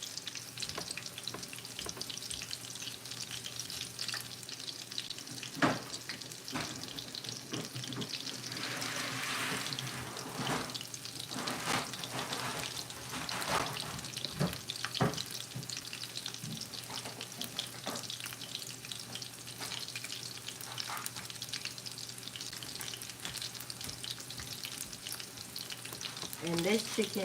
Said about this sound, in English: And this chicken is cooking very beautifully